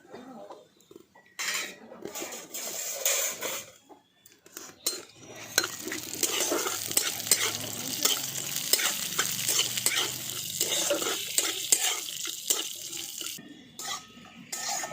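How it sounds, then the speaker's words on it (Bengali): Dry fruits including cashews and almonds frying in ghee, a close crackling sizzle with frequent spoon clinks and scraping against the pan, rising after a few quiet seconds and continuing steadily. "ড্রাই ফ্রুটসগুলো আমি ঘিয়ের মধ্যে দিয়ে দিচ্ছি।"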